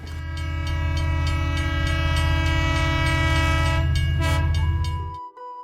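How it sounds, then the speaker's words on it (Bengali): A local passenger train in Kurigram, Bangladesh rumbles loudly and steadily with a droning engine and wheel clatter, then cuts off abruptly near the end. "আমি লোকাল ট্রেনে ভ্রমণ করতে যাচ্ছি"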